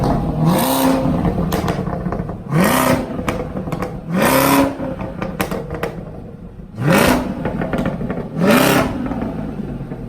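A loud 2017 Chevrolet Camaro ZL1 engine revs hard in repeated sharp bursts, roaring up and dropping back between blips, close by with no talking.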